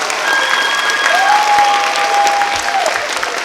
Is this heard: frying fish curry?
no